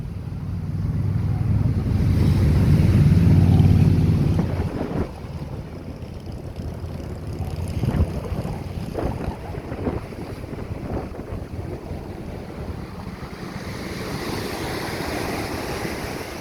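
Evening ocean waves at Hilo Bay, Hawaii, rush and wash over steady wind buffeting the microphone, louder at first and then settling into a continuous roar.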